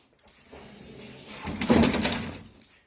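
A creaky pantry door in a house swings open with a dull wooden scrape and a soft knock, close by and moderately loud, without any talking.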